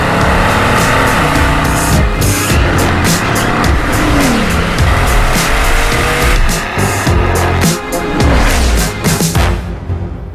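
A modern-day Bugatti race car roars at full throttle with tires squealing and skidding, its engine loud and continuous throughout, with no voices present.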